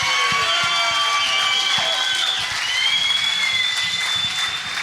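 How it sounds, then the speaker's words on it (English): A large crowd at a Bannockburn rugby club event applauds loudly and steadily, with some cheering and whistles mixed into the dense, continuous clapping. "Give an enormous round of applause to the heartbeat of the club."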